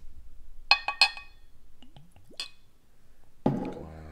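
A plastic cap is worked off a glass tequila bottle: a couple of sharp clicks, soft squeaks, then a bright clink near the end, close and clear against near silence.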